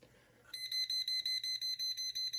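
A 1990s FireX G6 AC-powered ionization smoke alarm sounds a loud, shrill, rapid train of evenly spaced beeps, about four per second, with no voices over it.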